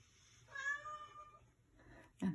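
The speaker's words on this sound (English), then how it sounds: "And there's my cat." A cat meows once, a clear drawn-out call, followed after a pause by a short, sharper vocal sound close by.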